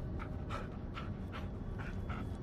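A dog in the Blair Witch horror video game pants rhythmically up close, about six quick breathy bursts over a low steady background hum, with no talk.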